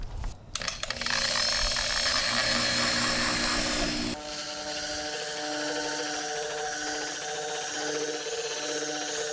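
A Harbor Freight buffer runs on an old car hood during a light polishing cut, giving a steady, loud motor whine with a brief start-up burst and a drop in pitch partway through, with no talk.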